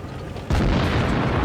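A tank gun on an Object 268 fires in World of Tanks Blitz, a single sudden heavy boom that cuts in after a quiet moment and rumbles on loudly to the end.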